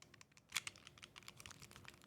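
Nintendo Switch 2 Joy-Con buttons click in rapid, crisp taps, close and quiet, with one slightly sharper press early on.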